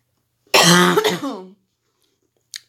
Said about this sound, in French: il y a une petite toux aussi qui démarre